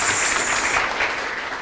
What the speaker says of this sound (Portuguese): Pode aplaudir o Marco Antônio Bastos.